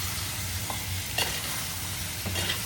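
Prawn masala stirred and mixed in a pan, Agri-style home cooking, with a steady soft sizzle and a few scraping spoon strokes near the start, middle and end; no talking.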